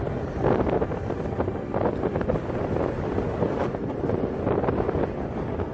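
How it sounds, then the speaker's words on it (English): Strong wind gusts across a high mountain notch above alpine lakes, roaring steadily and buffeting the microphone with a dense, continuous rumble. "It's pretty windy up here"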